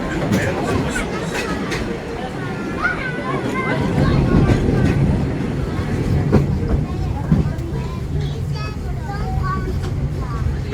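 A Walt Disney World Railroad steam train rolls along with a steady rumble and rattle of the cars, while a recorded narrator talks over the constant ride noise.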